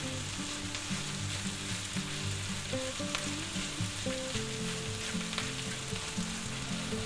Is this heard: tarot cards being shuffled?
no